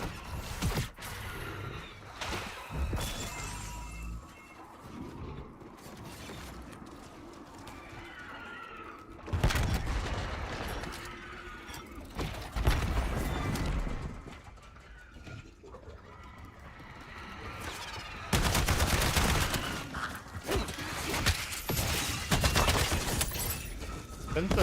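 Gunfire in a first-person shooter video game, bursts of rapid shots and heavy impacts in several loud clusters separated by quieter stretches, mixed with game effects and occasional voice.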